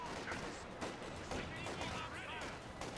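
A leIG infantry gun fires in the Company of Heroes 2 battle, its heavy report mixed into dense gunfire and explosions, with a commentator talking over the din.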